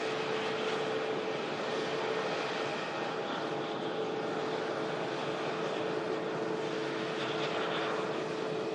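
A Logan Air airliner touches down on the runway in a steady, broadband roar of jet or propeller engine noise from the middle distance, with a faint tonal hum running throughout.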